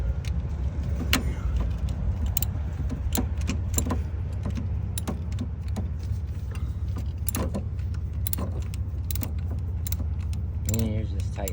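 Tightening a 10mm screw on a coil pack of a 2008 Toyota 4Runner: faint metallic clicks and ratchety ticks scattered over a low steady engine-bay hum, close and soft, with no clear voices.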